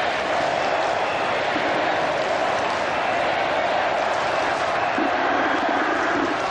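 Full house of around 40,000 at Eden Park during a 1992 World Cup cricket semi-final, a dense, steady stadium roar with a brief swell of cheering, loud and continuous throughout.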